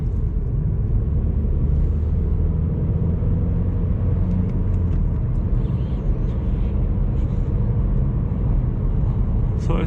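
A 2013 Vauxhall Astra 1.4 SRI accelerating along a country road, heard from inside as a loud, steady engine drone with road rumble that holds throughout, no voices.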